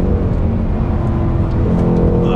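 Loud, continuous cabin roar of a 2020 Ford Mustang Bullitt's naturally aspirated 460 hp V8 pulling hard under acceleration, the dense low rumble holding throughout with no talk over it.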